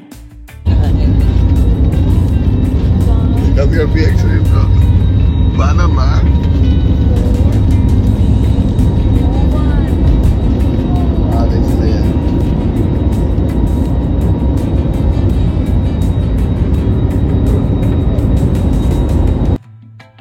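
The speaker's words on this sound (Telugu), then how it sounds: "ఫ్లైట్ టేక్ ఆఫ్ అవ్వడానికి రెడీగా అయితే ఉందన్నమాట. సో అది చాలా స్పీడ్గా వెళ్తుంది" A loud, steady jet engine roar fills the cabin of a passenger plane during takeoff on a Vijayawada to New Delhi flight, building in intensity, with a voice speaking briefly over it.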